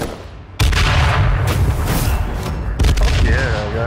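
Gunfire in the H1Z1 battle royale game, a loud close burst cracking in abruptly, then a steady rattle of shots with a second sharp burst near the end.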